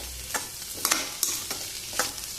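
Valpapdi vegetable frying in a pan over a high gas flame, a continuous sizzle broken by several sharp scraping stirs of a spatula, close and moderately loud.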